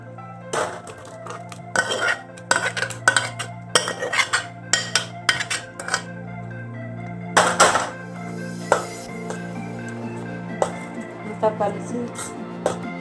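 Cooked dal being added to a tomato curry pot on the stove and stirred with a metal spoon, a series of sharp clinks and scrapes against the pot over a low steady hum.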